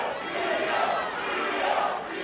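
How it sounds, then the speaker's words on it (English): Wrestling arena crowd roaring and cheering in a sustained, loud wash of voices with no break, a continuous swell of shouting fans. "Oh, listen to that crowd."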